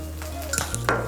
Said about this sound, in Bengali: ডিম আর আলুটাকে মিশিয়ে নেব চালের সঙ্গে